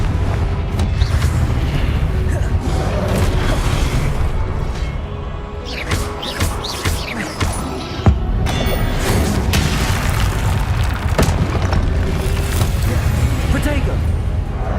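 Repeated Confringo fire-spell blasts from Hogwarts Legacy boom and crash through a long, busy stretch of combat. Loud impacts and mechanical clatter sit under a steady wash of noise, with voices present.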